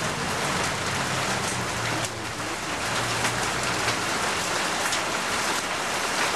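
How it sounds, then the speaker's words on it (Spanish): Volcanic ash from the Santa Ana (Ilamatepec) volcano eruption, seen from Juayúa, falls in a steady dense patter of fine particles on surfaces, like heavy rain, continuous and close with no voices. "Esto que se oye no es lluvia, es pura ceniza, gotas de ceniza."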